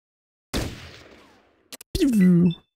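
Gunfire through a window in Fallout: Tactics, a loud burst of shots fading into a rattling tail, then two short sharp cracks, followed by a game character's brief voiced cry.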